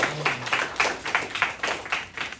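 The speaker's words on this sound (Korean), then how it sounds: "박수 합시다" A church congregation claps at a Sunday worship service, with a quick, steady, rhythmic series of fairly soft handclaps.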